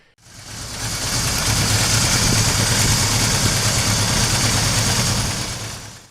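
An air-cooled four-stroke DOHC engine on a 1970s Suzuki GS550 motorcycle runs at a steady idle, a close, even mechanical drone that fades in, holds for several seconds and tapers off at the end.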